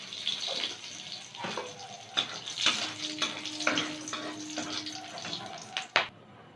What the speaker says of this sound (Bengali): এবার তেলের মধ্যে 2টো তেজপাতা, 2টো শুকনো লঙ্কা দিয়ে দিলাম